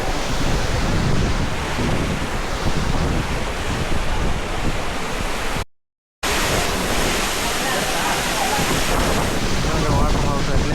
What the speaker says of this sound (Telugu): పైన నుంచి పడుతున్నాయి వాటర్ అయితే